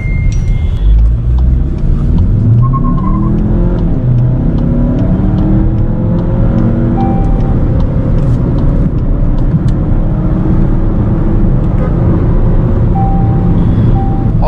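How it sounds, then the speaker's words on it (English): Skoda Octavia 2.0 TSI turbo petrol engine pulling hard on a highway after a kickdown, a loud, steady engine drone rising in pitch through the gears with constant road and wind roar. "When you step on it, the gearbox downshifts by 1 or 2 gears, puts you in the power band, and this car rockets off the line."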